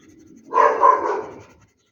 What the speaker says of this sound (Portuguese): Meu cachorro está latindo.